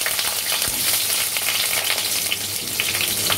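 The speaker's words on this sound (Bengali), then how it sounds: "এবার পটলগুলোকে ভেজে নেবার পালা।" Sliced pointed gourd (potol) fries in hot oil with a close, lively crackling sizzle and a brief stirring scrape, steady throughout.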